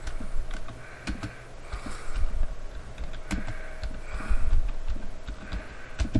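Keys clatter on a computer keyboard in irregular bursts of close, crisp taps, with no voices.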